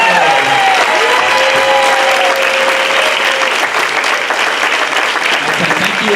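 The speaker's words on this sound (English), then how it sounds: "That's one more round of applause for all of the nominees." Sustained, loud audience applause for award nominees at a school employee-of-the-year ceremony, steady dense clapping from a crowd, with faint voices mixed in.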